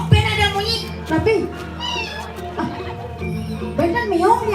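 A cat meows several times in a noisy setting at a temple ceremony, with people talking around it throughout.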